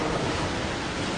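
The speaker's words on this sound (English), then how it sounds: "The ocean is a raging maelstrom." Heavy storm seas and gale-force wind of about 80 knots in the Bass Strait roar as a steady, dense wash of noise with no breaks.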